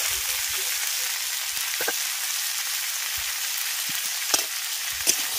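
Green peas fry with mixed winter vegetables in a pan, a constant broad sizzle near at hand with a couple of sharp utensil taps toward the end.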